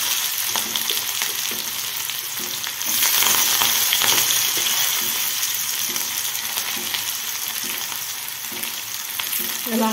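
Chopped onion fries in hot oil with mustard seeds and cumin for pithale, making a loud, continuous close-up sizzle with soft stirring scrapes throughout.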